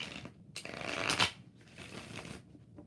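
Tarot cards are shuffled by hand in a few quick riffling bursts, close and fairly soft, with short pauses between.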